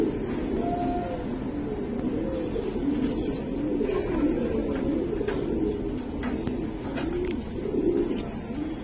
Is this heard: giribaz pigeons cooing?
yes